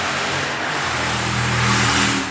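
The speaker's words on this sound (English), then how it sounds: "You can hear the hot rods going by here." Loud, steady roar of hot rod engines passing nearby on a non-highway road, a broad rumbling hum that swells slightly toward the end.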